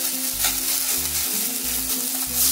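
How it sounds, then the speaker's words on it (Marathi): Rice sautéing in hot ghee in a pan for sweet jaggery coconut rice (narali bhat), a steady close sizzle and crackle with stirring throughout and no talking. "ह्यामध्ये तांदूळ घालते, तांदूळ 1 मिनिट परतून घेते"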